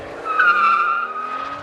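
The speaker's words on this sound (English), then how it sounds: "This is, again, the Mercedes CL65." A Mercedes-Benz CL65 AMG pushed hard on a winding mountain road, its tires giving a sustained high squeal as it skids through a bend, with engine roar underneath, close and loud throughout.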